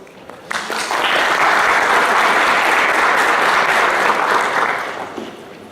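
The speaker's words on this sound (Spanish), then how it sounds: "Recibámoslo, por favor, con un aplauso" A lecture audience applauds to welcome a speaker, a dense, steady wash of clapping that swells quickly, holds loud for several seconds, then tapers off.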